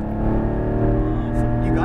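A Porsche Cayman GT4 on the track at Speed Vegas, its engine droning loud and steady from inside the car as it accelerates, with a voice faintly present underneath.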